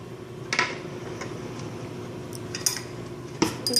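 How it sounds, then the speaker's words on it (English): A metal spoon is pulled from a kitchen drawer, clinking against other cutlery and dishes in a few short, close rattles over a quiet background. "I'm just going to be getting out my spoon."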